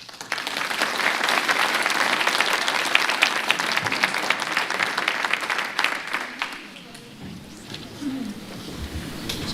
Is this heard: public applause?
yes